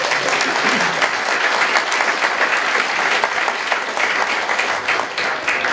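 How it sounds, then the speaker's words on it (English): Sustained audience applause at a community event in the Market Square in Buncrana, a dense, steady wash of many hands clapping for the full stretch, loud and close with no talk over it. "give him a round of applause"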